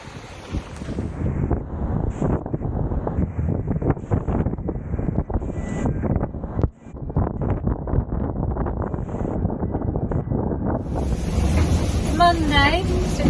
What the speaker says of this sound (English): Breeze is just starting to fill in.